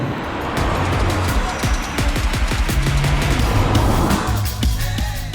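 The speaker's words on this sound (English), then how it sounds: "with the A35, the notes are all there, like the transmission noises, the intake acoustics, the occasional crackles and pops" A 2021 Mercedes-AMG A35 sedan drives with a steady, loud engine and exhaust note throughout, rapid pulsing firing rhythm and occasional crackle-like bursts, heard close with no talk.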